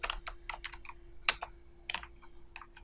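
Fingers type on a computer keyboard in quick, irregular keystroke clicks, close and fairly quiet, with a faint steady hum beneath.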